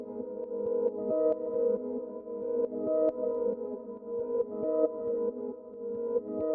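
Processed flute sample drenched in reverb, delay and auto-pan, forming a sustained ambient pad with swelling, pulsing layers of held tones, moderately loud and continuous.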